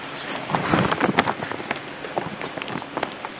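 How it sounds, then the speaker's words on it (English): Steady rain pattering outdoors on surfaces around a work area during a 12-valve Cummins timing cover repair, a dense close hiss with scattered louder drops. "Unfortunately, it's raining"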